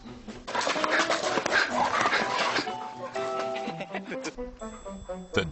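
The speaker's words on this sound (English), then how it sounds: "The dog is all over our camera crew. He's overly frisky." An overly frisky dog whimpers and yips close by in a series of high, whining cries, with voices and bustle around it.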